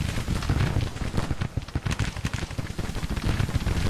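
Rapid crackle of musket volleys with deeper cannon booms in a Civil War video game battle, dense and continuous with sharp repeated transients throughout.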